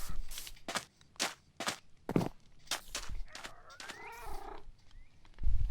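A cat in the Minecraft Bedrock video game meows repeatedly and purrs, with several short, clear calls spaced across the moment and a longer rising meow near the end, heard alone without talk.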